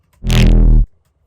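One loud, buzzy synth hit built from compressed sine waves, with a deep, heavily compressed body, sustained for just over half a second before cutting off abruptly.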